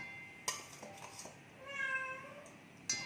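A pet cat, fussy and talkative even after being fed, gives a faint drawn-out meow amid sparse clinks of kitchen dishes and cutlery, followed by a sharp clack.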